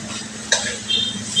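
Chicken sisig boils and sizzles in a pan, a steady hiss with bubbling and a sharp click of a utensil against the pan, close and continuous.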